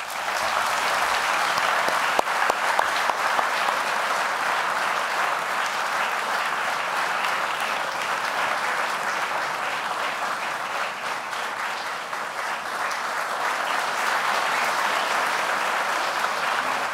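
Sustained audience applause fills an award ceremony hall, a dense, steady clatter of many hands clapping at constant loudness for the whole stretch, with no voices rising above it.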